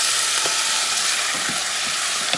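Black beans and sausage stew sizzling steadily in a hot pan while being mixed, a dense, close frying hiss with soft stirring scrapes running through it, alone without voices.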